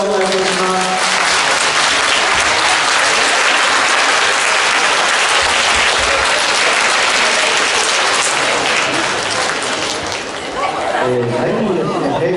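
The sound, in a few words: applause for a taiko drum performance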